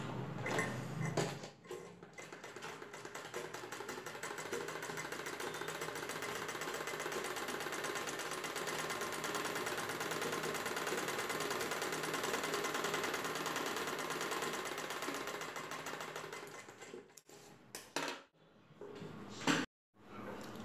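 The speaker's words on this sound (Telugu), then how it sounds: "పైవైపున కుట్టు వేసుకోవాలి." A sewing machine stitches a back-open prince-cut blouse in one long continuous run, a close, steady rapid whirring with fine rhythmic ticking that slows and stutters near the end before a brief final burst.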